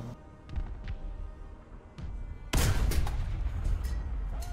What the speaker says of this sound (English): I swear I'm hearing gunshot.